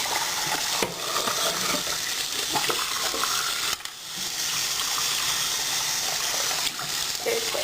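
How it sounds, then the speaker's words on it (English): Warm tap water gushes steadily into a sink while a plastic Habitrail Ovo dwarf hamster habitat part is rinsed, the broadband splashing continuous and close with brief dips and knocks as the piece is moved. "just want to rinse it with warm water."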